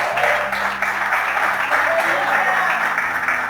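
Steady applause from a church congregation, continuous and fairly loud throughout, with a low musical drone underneath.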